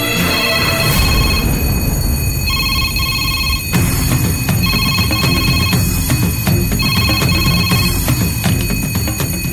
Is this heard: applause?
no